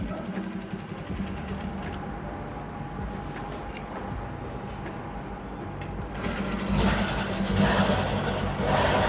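A sewing machine runs close by while stitching lace onto the slit of a lined kameez, a continuous mechanical whir that grows louder and busier in the last few seconds.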